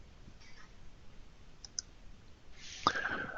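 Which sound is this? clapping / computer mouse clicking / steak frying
computer mouse clicking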